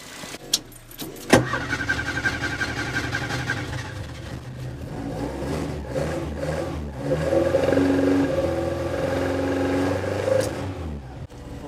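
A Ford Escort Mk1 fitted with an ST170 engine cranks and fires at close range, then settles into a steady, loud running idle with a few throttle swells.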